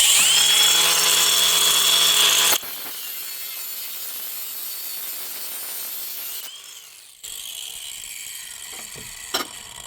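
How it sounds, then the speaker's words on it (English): An angle grinder cuts through a stripped sway bar end link on a Toyota RAV4. It starts with a loud high whine that drops into a steady grinding rasp, with brief pauses and a faint clank near the end and no voices. "so I'm gonna have to resort to an angle grinder."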